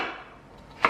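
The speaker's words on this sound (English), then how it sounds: "Chopping it up all funky like again." Single knife chop on a kitchen cutting board while cooking, one crisp sharp knock near the end following a quiet fading tail.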